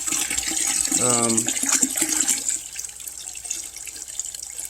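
Water and sand gurgle and rush steadily as they are siphoned through a hose, with a voice speaking briefly partway through, then the flow softens toward the end.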